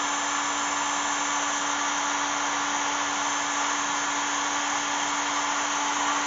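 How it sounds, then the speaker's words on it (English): Heat gun blowing on heat-shrink tubing over spliced wires in a garage, a steady loud whooshing roar with a constant motor whine, continuous and close throughout. "Get my heat gun. I'm going to focus in the middle here."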